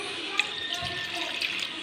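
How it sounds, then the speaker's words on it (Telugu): Water pours into a bowl with a faint, steady trickling hiss that runs throughout. "ఒక గిన్నె తీసుకొని అందులో కొద్దిగా వాటర్ అండి"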